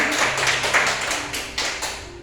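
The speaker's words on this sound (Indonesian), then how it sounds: "Tepuk tangan untuk kelompok 2." Brief classroom applause for a student group after their presentation, a short burst of moderately close clapping that fades quickly.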